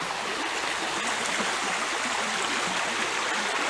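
Steady babbling of a woodland stream in Virginia running over rocks, continuous close rushing water with no voices.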